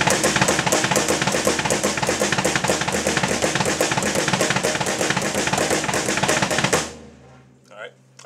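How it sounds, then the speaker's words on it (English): A drum kit plays fast, dense flams between the snare and floor tom with quick bass-drum doubles, loud and continuous for about seven seconds before stopping abruptly, with a faint voice afterward. "do flams between the snare and the floor"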